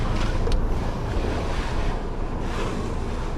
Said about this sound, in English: I can tell it's coming because I can hear the wind picking up